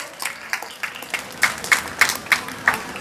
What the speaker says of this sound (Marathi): जोरदार टाळ्या झाल्या पाहिजेत विद्यार्थी मित्रांनो